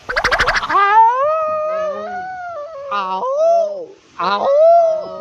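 People imitate dogs howling at midnight, drawing out long wavering howls and whines that rise and fall in close, loud succession with brief breaks between them.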